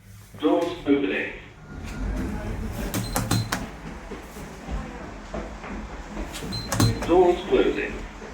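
The lift doors at Haslemere railway station slide open after an automated announcement. Mechanical clicks and a whirring slide sit between two spoken announcements, with background hum.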